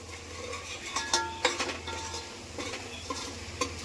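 Spoon stirring spices, salt and turmeric into a Kathiyawadi gunda curry gravy in a pot, with soft scraping and light clinks over a faint sizzle, close and fairly quiet, no talking.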